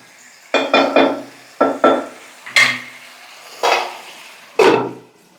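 A metal lid goes onto a cooking pot of tomato curry with a series of close, bright clanks and rattles, in separate clusters of one or two knocks a second or so apart.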